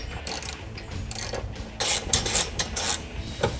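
A ratchet clicks in rapid bursts while tightening a bolt on an MBRP cat-back exhaust fitted to a 2015-2022 Dodge Challenger 3.6L, with close metallic pawl ticks in short strokes and brief pauses.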